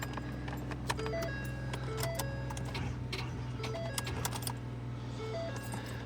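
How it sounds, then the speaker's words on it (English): An RV's key-in-ignition warning chime beeps repeatedly in a steady, evenly spaced pattern, with no keys in the ignition and a suspected wiring short, sounding close and clear over a constant low electrical hum. "It's doing the beepy thing, like it has the keys."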